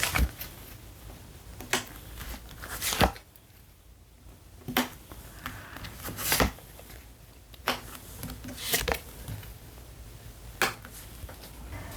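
Tarot cards are shuffled and tapped in a quiet room, producing a series of sharp, crisp riffling bursts and slaps spaced irregularly over several seconds, close to the microphone.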